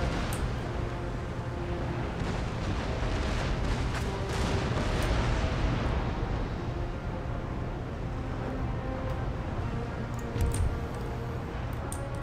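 Naval cannons firing round shot in an Empire: Total War sea battle, a dense rolling series of heavy booms and rumbling blasts at sea, sustained and loud throughout, with no talk.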